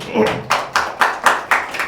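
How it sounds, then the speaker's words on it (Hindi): Sharp hand claps sound close and steady in an even rhythm, about four per second, in a podcast studio. "जोरदार तालियां बजाएं दोस्तों"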